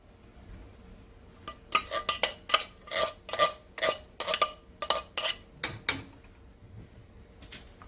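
Metal pizza tray and pans clatter and scrape as cornbread goes into the oven, a run of about a dozen sharp clanks and knocks in quick irregular rhythm, close and fairly loud, with no talking.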